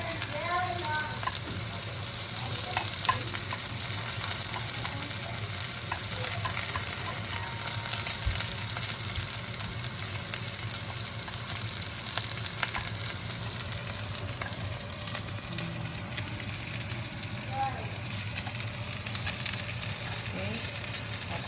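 Steady, dense sizzling of beef frying in a sukiyaki hotpot as the fat renders, a continuous close crackle running throughout with a voice faintly beneath it.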